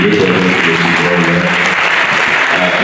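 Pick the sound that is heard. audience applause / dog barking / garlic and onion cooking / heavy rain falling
audience applause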